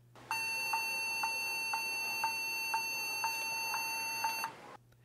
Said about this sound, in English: three long high-pitched beeps, followed by one low-pitched beep, all the same length.